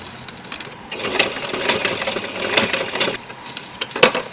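A sewing machine stitches stretch fabric laid over newspaper, running in a close, continuous rattling whir with small ticks and bursts, fairly loud and without speech.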